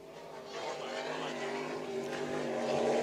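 An offshore racing powerboat roars past with a loud, steady engine drone that swells toward the end, under a commentator's voice at a marathon Super Boat Grand Prix.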